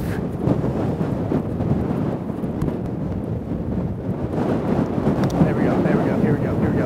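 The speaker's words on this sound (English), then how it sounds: "Oh, this wind is crazy." Strong, steady wind roars across open ice during an ice-fishing outing, buffeting the microphone with continuous low rumbling gusts for the whole stretch, loud and close with no clear speech.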